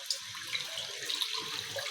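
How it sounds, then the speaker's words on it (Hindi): Water poured from a mug into a cooking pot of kadhi on the stove, a steady close splashing stream that runs without a break and carries no talk. "और थोड़ा सा पानी और डालेंगे क्योंकि अच्छे से पक जाएगी"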